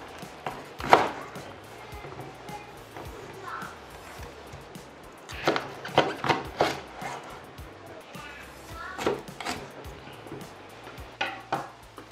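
Knife halving bitter melons on a cutting board in a home kitchen, with several sharp cutting knocks spread across the clip and a few close, firm chops mixed in.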